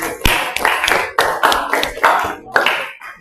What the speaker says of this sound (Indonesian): Jadi tepuk tangan dulu untuk teman yang kelompok 1.